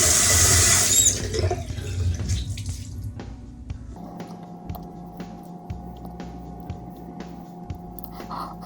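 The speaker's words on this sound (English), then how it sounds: "let me do one more rinse" Tap water runs steadily during a hair rinse, louder and splashier in the first second, then settling into a softer continuous flow with a faint hum underneath.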